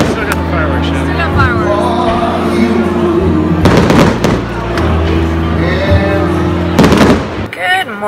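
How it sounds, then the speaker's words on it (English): Fireworks burst after a baseball game, loud crackling booms in clusters over a steady background of crowd and ambient noise, with people talking nearby. "Still got the fireworks show."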